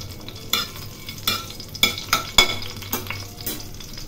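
Whole cloves, a cardamom pod and cinnamon sizzle with cumin seeds in hot oil, a soft steady fry broken by several sharp scrapes and clinks of a spoon against the pan.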